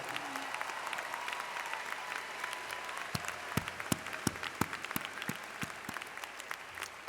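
Applause from a commencement ceremony audience for the standing faculty, a broad crowd of clapping that rises and continues steadily with sharper individual claps standing out toward the end.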